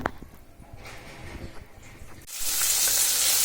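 Onion, garlic, ginger and dried chili go into hot oil: a few quiet clicks and stirring sounds first, then a sudden loud, steady sizzle takes over for the last second.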